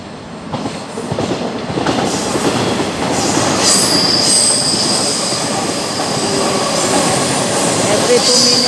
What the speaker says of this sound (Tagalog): Parating na yung train.